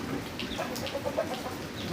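A chicken clucks repeatedly in short, close calls over a steady background hiss.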